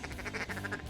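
Ducks quack repeatedly in quick succession during a Nebraska waterfowl hunt, loud and close, a busy run of calls lasting about a second with no talking.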